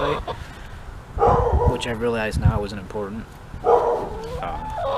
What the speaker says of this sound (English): there's dogs next door on both sides of us